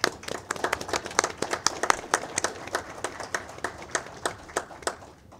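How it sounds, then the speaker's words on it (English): A round of applause at an MTA Board LIRR Committee meeting, a small group clapping in a steady patter of distinct claps that fades toward the end. "Just want to give her a round of applause."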